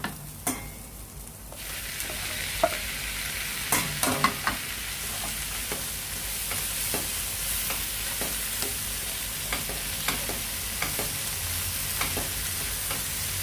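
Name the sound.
tomatoes sautéing and being stirred with onions in a pan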